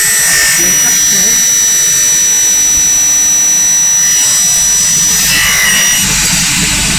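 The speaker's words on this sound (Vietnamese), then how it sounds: "Tiếng motor rất là êm, tiếng cắt thế." An F88 double-head aluminum cutting machine's motor drones loudly and continuously nearby while its blade cuts aluminum, adding a hissing, high-pitched edge that swells and fades.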